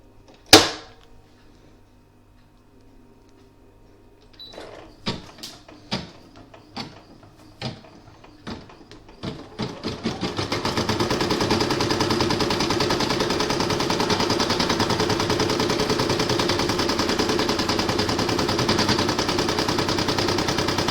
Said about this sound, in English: then I'm going to pop it back into my machine and stitch it down